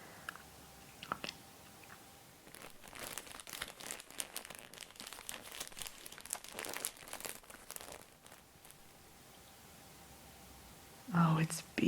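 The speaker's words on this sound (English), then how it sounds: "you don't mind if I unwrap it right away, do you?" Wrapping paper crinkles and rustles in close, soft ASMR bursts as a gift holding a wand is unwrapped, with a quiet whispering voice before and around the sound.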